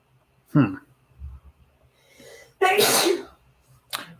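A sharp, loud sneeze bursts out close by, preceded by a quick sharp intake and followed by a short snort-like exhale.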